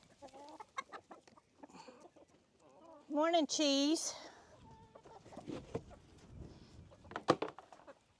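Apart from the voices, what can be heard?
chickens clucking while eating scratch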